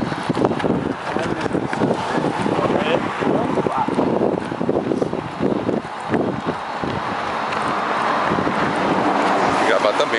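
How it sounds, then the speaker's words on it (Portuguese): Cold wind buffets the microphone outdoors, a loud, steady roaring rumble that lasts the whole stretch, with voices faintly mixed in beneath it. "O vento frio."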